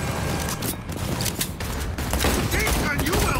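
Rapid bursts of automatic gunfire in Cyberpunk 2077 rattle loudly and continuously amid gritty mechanical clatter during a chaotic fight.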